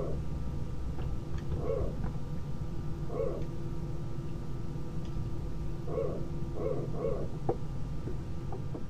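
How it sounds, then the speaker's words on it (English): An Airbus A320 hydraulic power transfer unit pump makes short, barking, dog-like bursts in irregular clusters over a steady cabin hum. "the passengers will hear that pump. It's quite distinct in the sound because it sounds like a barking dog"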